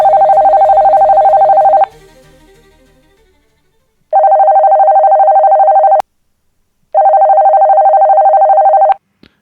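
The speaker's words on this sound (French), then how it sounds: "un coup de téléphone m'a perturbé la précieuse pause du magistrat" An old-style telephone rings loudly in three long electronic bursts separated by silences, breaking a magistrate's quiet break in a prison setting.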